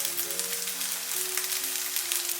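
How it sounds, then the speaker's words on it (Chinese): Glutinous rice and lotus root cakes pan-fry over medium-low heat in a steady, close sizzle with a soft, even crackle and no pauses. "再开火，调中小火煎到2面金黄。"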